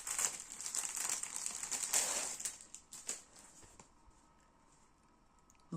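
Plastic packaging crinkles and rustles loudly for about three seconds as a package of marbled sky-blue embroidery fabric is opened, then the handling fades to quiet with only a few light touches.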